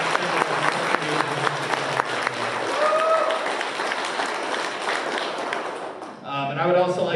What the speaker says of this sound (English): can we get one more big round of applause for the table and chef and all of their staff?